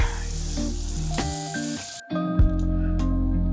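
Meat sizzles and crackles in a makeshift pan over a campsite flame, a loud, close frying hiss that is interrupted briefly by a stir before the steady sizzle returns, with no talking.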